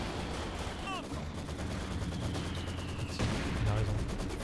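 Machine gun fire from German MG positions in a World War II D-Day game match, a steady roll of distant rattling shots beneath ongoing battle noise and a rising whine, with louder impacts toward the end.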